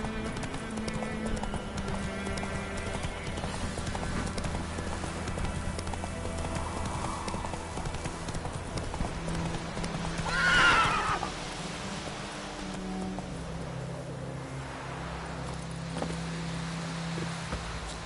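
In The Witcher 3, Geralt's horse Roach clip-clops along at a steady trot under game music, with a brief loud neigh midway.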